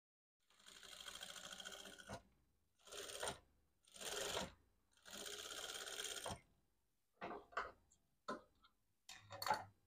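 A sewing machine runs in bursts while stitching the front of a princess cut blouse, giving several short rattling runs of whirring stitches separated by pauses, close and clear.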